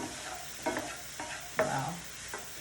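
Bell peppers get stirred in a 12-inch non-stick skillet: repeated spatula scrapes and pushes, roughly four or five strokes, sound over a soft background sizzle, close and fairly quiet.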